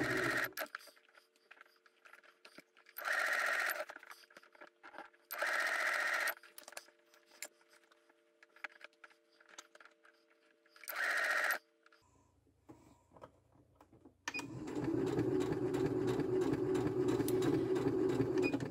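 A sewing machine runs in short bursts while stitching aligned fabric along a curved line, each burst a steady mechanical whir separated by pauses, ending in a longer sustained run.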